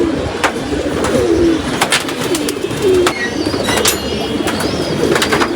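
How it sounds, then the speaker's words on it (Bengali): Domestic pigeons coo at a home loft, several soft rolling coos repeating at intervals, close by, with intermittent sharp clicks and rustles around them. "আজকে শুধু আপনাদেরকে কবুতর দেখাবো"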